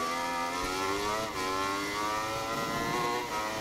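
A motorcycle engine in the MotoGP 19 racing game at the Malaysian GP, droning steadily with rising harmonic tones as the throttle opens, fairly quiet and alone.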